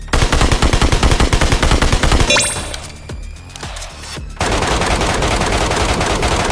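An automatic rifle in the mobile shooter Metro Royale fires loud, rapid bursts of evenly spaced shots, pauses briefly amid clanking and ringing, then resumes a fast, continuous stream of gunfire.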